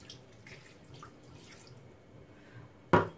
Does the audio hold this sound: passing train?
no